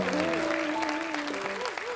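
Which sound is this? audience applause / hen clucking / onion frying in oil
audience applause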